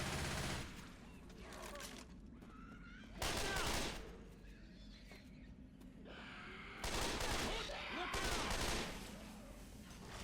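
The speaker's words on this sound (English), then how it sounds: "Assault rifle." Assault rifle gunfire in the Left 4 Dead 2 video game, on the No Mercy campaign at Expert difficulty, in two loud sustained bursts with quieter game sounds and voices between them.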